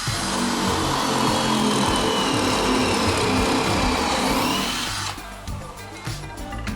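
A plug cutter driven by a cordless drill cuts into wood with a loud, continuous grinding whir that runs for about five seconds, then the motor spins down to a rougher rattle as the cut ends.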